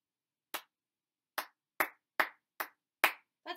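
Single sharp hand claps tap out a rhythm pattern in a primary school music lesson, seven crisp strikes spaced unevenly against near silence.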